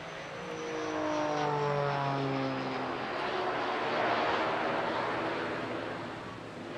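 Jet aircraft engines roar at full power during an aerobatic display at the Bournemouth Air Festival 2023, a loud, steady sustained rumble with shifting tones as the aircraft manoeuvres.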